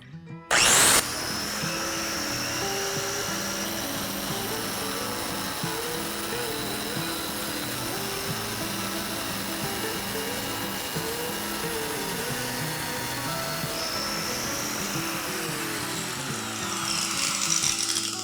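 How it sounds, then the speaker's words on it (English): A 4-inch angle grinder cuts bathroom floor tile in a steady, loud, continuous whine after a brief startup burst, held without a break and rising slightly near the end. "I'm gonna be just using the grinder and passing it along on an angle"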